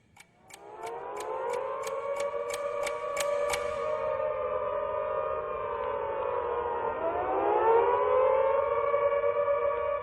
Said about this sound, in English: The sirens pervaded the whole atmosphere, all over the city.